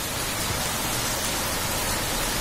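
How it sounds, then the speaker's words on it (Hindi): Rain falls steadily in a constant, even hiss that fills the whole moment, fairly loud and close, with no voices. "ऐसे ही थोड़ा मजा लेंगे बारिश में"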